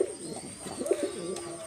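A male Mysore pigeon and golden pigeons coo at close range, soft throaty rolling calls repeating in a steady rhythm against a quiet background hum, with no talking.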